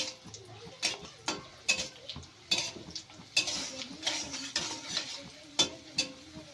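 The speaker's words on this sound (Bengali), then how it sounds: "এর ভেতরে দিয়ে দেব কিছু কিশমিশ, সবগুলোকে ভালো করে ভেজে নেব।" Raisins frying in oil in a wok are stirred with a utensil, giving irregular, fairly close metallic scrapes and clanks roughly every half second over a faint sizzle.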